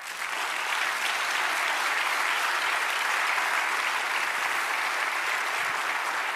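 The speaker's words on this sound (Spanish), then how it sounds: "Den un aplauso al Señor." A church congregation claps in sustained, dense applause that stays loud and even for the full stretch, with no voices standing out.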